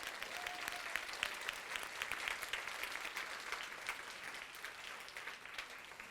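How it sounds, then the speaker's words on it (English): Steady applause from a luncheon audience at a keynote panel, many hands clapping in a dense, even wash that holds at a moderate level without a break. "let's give you a warm round of applause"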